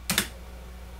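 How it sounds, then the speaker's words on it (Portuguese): Computer keyboard space bar pressed during audio editing software playback, two quick sharp clicks in close succession near the start, then quiet room tone. "basta clicar o espaço do seu teclado"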